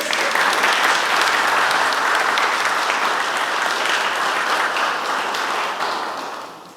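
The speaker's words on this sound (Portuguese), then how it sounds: "Podemos aplaudir mais uma vez?" Sustained audience applause at a cultural night awards ceremony in Porto Amazonas, loud and dense throughout, many hands clapping together before tapering off near the end.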